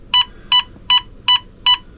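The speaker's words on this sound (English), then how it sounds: "My alarm went off and I have a leak." A propane leak detector alarm, triggered by a leak, emits five sharp, evenly spaced beeps in quick succession, loud and close.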